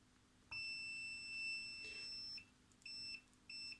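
Beeping continuity tester rigged up on a fake Nagoya 144/430 amateur radio antenna: a steady high electronic tone sounds for about two seconds, then two shorter beeps follow, close and clear with no talk.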